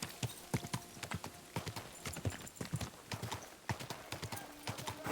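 Horse hooves in the video game Kingdom Come: Deliverance 2 clip-clop in a quick, uneven trotting rhythm, fairly close and crisp, with a faint background hum and no talking.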